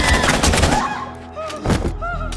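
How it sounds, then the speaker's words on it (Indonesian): Gunfire in a scene from the 2016 Indonesian action film Headshot, a burst of loud, rapid shots layered with music and effects, fading briefly before another hit. "sehingga membuat Tejo jengkel dan menembaknya hingga mati"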